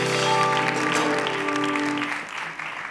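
Studio audience applause for a guest on a Turkish talk show, loud at first and then tapering off, with a sustained musical tone underneath.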